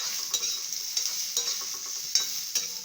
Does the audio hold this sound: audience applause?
no